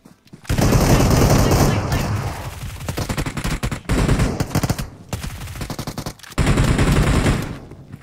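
PUBG Mobile gunfire, loud sustained bursts of rapid automatic shooting broken by brief pauses, with a voice talking intermittently between the volleys.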